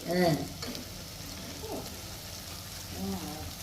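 Mutton head pieces dropped into a hot pan for talakaya pulusu set off a steady close sizzle and frying hiss, with a voice speaking briefly at the start and end.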